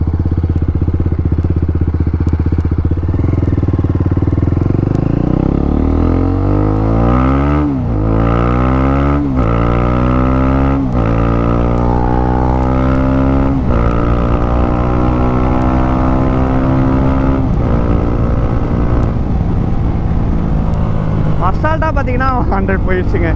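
A fully modified TVS Apache RR310 sport motorcycle riding on a highway, its engine loud and steady as it climbs through the gears, each upshift breaking the rising whine before it climbs again, with wind roar throughout.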